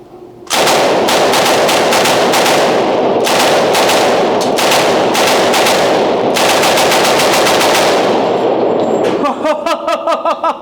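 A full-auto M3A1 submachine gun fires .45 ACP at a range in loud, steady bursts of rapid shots with short pauses between them, then the firing stops and a lighter clattering follows.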